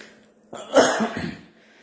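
A man recovering from COVID-19 gives a single close, husky cough, a sharp onset followed by a short rough rattling tail and then silence.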